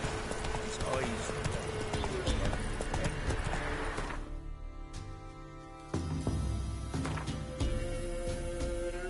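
Horse hooves gallop in the video game Witcher 3 with a rapid, continuous clip-clop, mixed with game sounds and voices talking over it.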